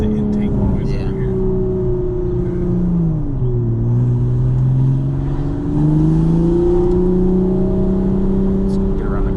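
Toyota GR Supra with B58 engine and aftermarket intake, JB4 tune and catted downpipe, accelerating: a steady, loud engine drone whose pitch dips and climbs again through a gear change, heard from inside the car.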